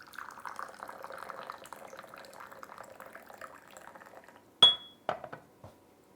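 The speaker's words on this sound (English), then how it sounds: "I know I'm pouring a bit high." Boiling water is poured from a height over 2015 spring raw pu erh tea leaves, a soft, steady trickling stream for several seconds, followed by a few sharp clinks of glass or ceramic teaware.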